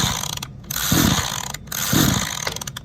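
A Unizz QL-11/QL-12 power sprayer's small engine is cranked twice without firing, each pull giving a brief rough mechanical burst close by, with short gaps of quieter mechanical noise between attempts.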